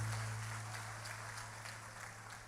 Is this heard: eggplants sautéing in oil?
no